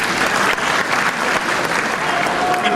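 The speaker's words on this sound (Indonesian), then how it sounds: "Tepuk tangan." A debate audience of presidential convention candidates' supporters in Maluku, Indonesia, breaks into sustained applause, a dense, even roar of clapping throughout.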